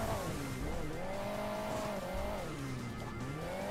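A car engine in the mobile game Hill Climb Racing 2 drones steadily throughout, its pitch rising and falling as the vehicle climbs and accelerates, with no talk.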